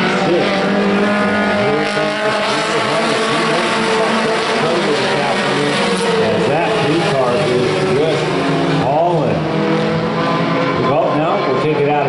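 Race cars roar together at a standing start, a dense loud pack of engines with rising and falling pitch sweeps as they accelerate, tires squealing, a commentator talking over the din throughout.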